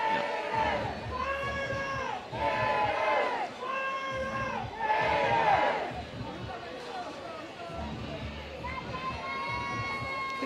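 A crowd at a college softball game between Florida and Tennessee on a sunny day cheers and shouts in waves, a loud dense roar of many voices with rising swells, heard close and continuous.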